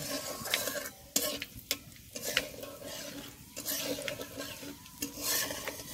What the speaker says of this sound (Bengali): এবার দিয়ে দেব গোটা জিরে। এবার সবকটা ভালো করে